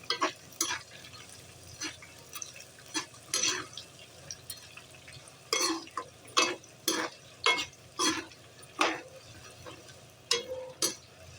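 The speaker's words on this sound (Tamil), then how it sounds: "இப்போ இந்த ஸ்டேஜில் காஞ்ச மிளகா போட்டுக்கலாம். இது நல்லா வறுத்துக்கலாம்." Dried red chillies fry in a pan for curry leaf rice, giving soft crackles and sizzles, with intermittent stirring scrapes and spatters recurring in irregular bursts, fairly faint and close.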